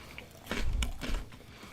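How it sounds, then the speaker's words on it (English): Biting and crunching into a jalapeno cashew KIND bar right against the microphone, a couple of loud close crunches with chewing after, no talking. "I just crunched right in the mic."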